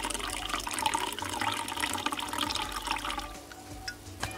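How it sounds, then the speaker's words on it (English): Wine pours into a glass in a continuous gurgling trickle for a few seconds, fairly close and unbroken, with no talking over it. "Let me pour myself a glass of wine,"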